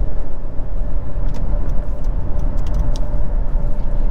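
A 2023 Honda CR-V EX-L AWD engine pulls steadily under acceleration, a loud, continuous low drone with a faint rising tone heard from inside the cabin, with no one speaking.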